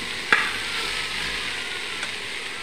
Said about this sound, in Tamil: பாருங்கள், 5 நிமிஷம் வெஜிடபிள்ஸ்லாம் நல்லா வதக்கியாச்சு